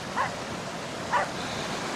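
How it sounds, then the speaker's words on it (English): A dog barking during a walk on a beach beneath Saltburn cliffs, two short distant barks about a second apart over the constant wash of surf. "You bark, son. You bark all over my video, I don't care."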